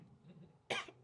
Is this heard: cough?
yes